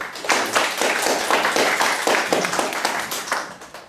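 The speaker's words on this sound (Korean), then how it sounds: "큰 박수 부탁드립니다." Audience applause at a party members' debate meeting in Seoul, a dense, steady round of many hands clapping close by, continuing for several seconds without a break.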